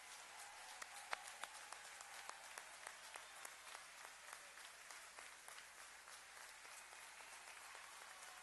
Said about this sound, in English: just one more big round of applause for the class of 2023